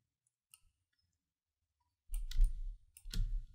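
Alt-clicking with a computer mouse while masking in After Effects gives a few faint, sparse clicks, then two louder close bursts of clicking and handling noise.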